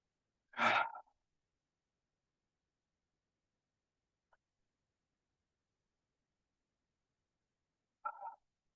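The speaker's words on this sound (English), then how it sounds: "we're going to take 3 deep breaths with the thumbs in the middle of the forehead" Deep breaths taken during a somatic breathing exercise, with thumbs pressed to the middle of the forehead: one full breath near the start and a shorter exhale near the end, separated by long silence.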